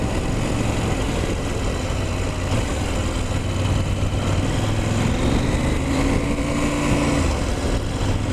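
A KTM 790 Adventure motorcycle rides in second gear through countryside, its engine a steady, loud drone with harmonic tones that rise and fall slightly over the stretch, continuous with no pauses.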